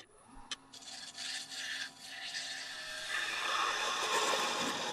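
A bowl gouge cuts a wooden bowl turning on a lathe, a continuous rasping, scraping hiss that grows louder and denser over the last seconds, with no voices.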